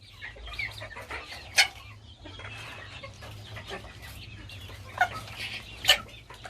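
A rooster clucks in short bursts, with a few sharper calls standing out over a low steady hum in the background.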